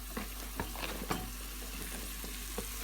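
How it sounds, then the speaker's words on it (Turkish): Eggplant pieces stirred into a pan of pepper paste for a gözleme filling, giving a steady close sizzle with scattered spoon scrapes and clacks, no voices. "Bu şekilde karıştırıp İçerisine patlıcanlarımızı ilave edelim."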